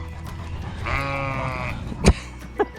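A sheep bleats once on a grassy farm pasture, a clear, wavering call lasting under a second, close by, followed by a couple of faint thuds.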